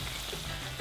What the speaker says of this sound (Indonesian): Panaskan minyaknya. Tinggal goreng deh.